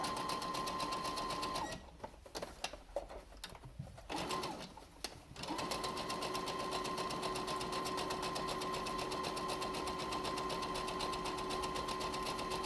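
A sewing machine runs a zigzag stitch around a layered cloth face mask, humming steadily and close, pausing briefly for a few seconds of stop-start clicks, then resuming a long unbroken run.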